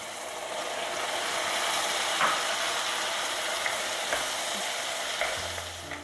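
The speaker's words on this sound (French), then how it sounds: "mélangez bien le tout à l'aide d'une spatule, comme ceci" Minced meat and wine cooking in a pan while being stirred with a spatula for arancini: a steady, dense sizzle fills the whole clip, with occasional faint scrapes and clicks of the spatula against the pan.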